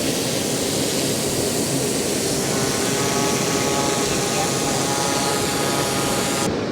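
A SwellPro Fisherman Max fishing drone runs its motors at night, giving a steady, loud, close, broadband whirring roar that holds unchanged throughout.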